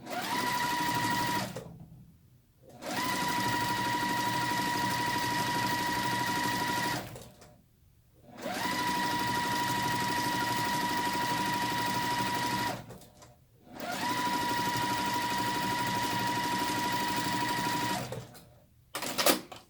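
A sewing machine stitches a quarter-inch seam joining quilt patch pieces, running in four long steady bursts with short pauses between, close and loud with no talking.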